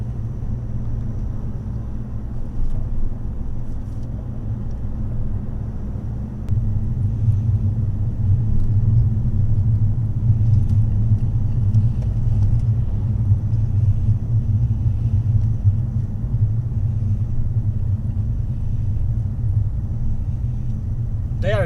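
A car crawls along the Transalpina mountain road in Romania at well under the speed limit, producing a steady low engine and road rumble that stays even and close throughout, with faint voices inside the vehicle.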